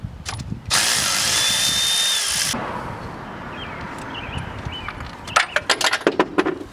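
An electric ratchet whirs loudly for about two seconds, backing out ignition coil bolts on a BMW E60 M5 engine, followed by quieter metallic clinks and taps of parts and tools.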